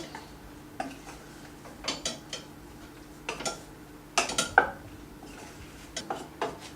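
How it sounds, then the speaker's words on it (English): Intermittent clinks and scrapes of a utensil stirring vegan food with tofu in a pan, irregular taps and a cluster of louder knocks midway, close and fairly quiet with no talking. "Now we can stir this up a bit more."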